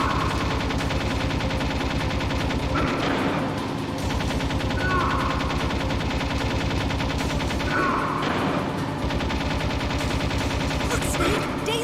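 Gunfire in the Metal Gear Solid finale crackles in dense, rapid bursts, near and loud, with heavier booming volleys around the third and eighth seconds.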